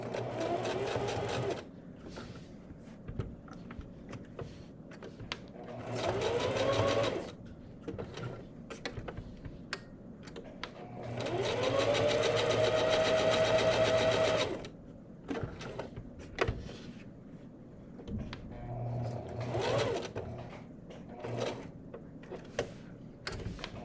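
Sewing machine stitching around a fabric tooth with white thread, running in short bursts and two longer steady runs, with pauses and small handling clicks between them.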